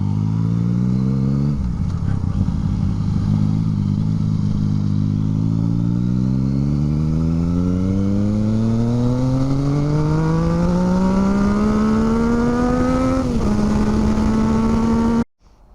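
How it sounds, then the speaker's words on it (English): A motorcycle engine revs steadily upward in one long, loud climb, its exhaust note rising in pitch before dropping off abruptly at the end. "Just can't beat a nice sounding exhaust."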